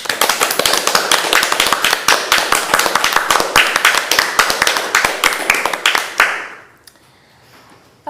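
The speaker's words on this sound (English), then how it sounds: "give yourself a round of applause. So it's the right moment to do it." A room full of people at a performance research event applauding themselves, with dense, sharp, close hand claps that run steadily for about six seconds and then stop abruptly, leaving near silence.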